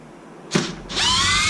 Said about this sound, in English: I'm gonna take off the screws back here. There's 3 screws in back of this diff cover.